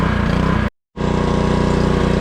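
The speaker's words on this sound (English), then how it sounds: "Let's work on the pressure washer for a minute." A small gasoline engine on a pressure washer runs loud and close with a steady, throbbing drone that cuts out abruptly for a moment, then resumes at the same pace, with no voices.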